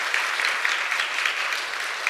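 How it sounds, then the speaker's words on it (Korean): Church congregation applauding during a Sunday worship service, a steady dense wash of many hands clapping together, moderately loud and continuous throughout with no talking. "다시 한번 큰 박수로 축하하도록 하겠습니다."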